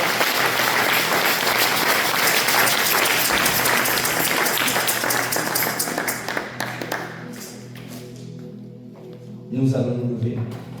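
A church congregation applauds the Lord, loud sustained clapping from a large crowd that fades out after several seconds before voices and shuffling rise at the end.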